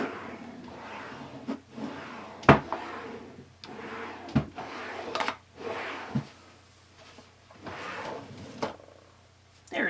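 Wooden drawers and cupboards in a reorganized room are pulled open and pushed shut during a search, giving a series of knocks and thumps at uneven intervals. One sharp bang stands out near the start, and the room is quiet otherwise.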